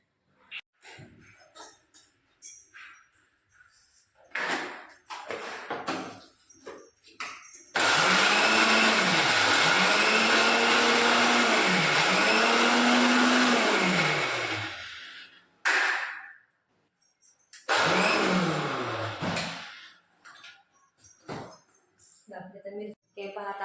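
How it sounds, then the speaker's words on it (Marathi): A mixer grinder whirs loudly and close as it grinds garlic, green chilli and cumin for alu vadi, running in one long burst and then a shorter second one, with clinks and kitchen handling sounds in between. "आता आपण लसूण आणि मिरची बारीक करून घेणार आहे त्याच्यामध्ये थोडंसं जिरं घालून घेते मी"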